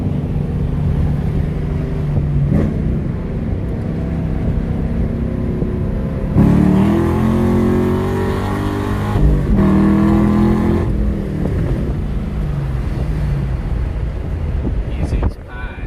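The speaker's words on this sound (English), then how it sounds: "we're gonna do some second gear shift demonstration" A 2014 Camaro SS 1LE accelerates hard and shifts into second gear, its engine note rising, dipping at the shift and climbing again, loud and close with wind buffeting the microphone throughout.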